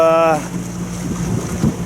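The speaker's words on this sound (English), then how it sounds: "At the moment we are running on engine because my batteries are running low and the wind was dropping" A sailboat motoring under engine on the Mediterranean off France, with a steady low engine drone mixed with wind buffeting and water noise, loud and close, after a brief tonal sound at the start.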